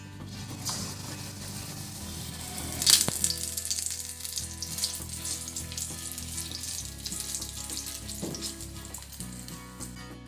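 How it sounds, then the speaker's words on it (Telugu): Mirchi bajji, batter-coated green chillies, frying in hot oil over a low flame: a steady close sizzle and crackle with a brief louder burst of spattering early on, no talking. "నూనె బాగా కాగిన తర్వాత ఇప్పుడు బజ్జీ వేయాలి"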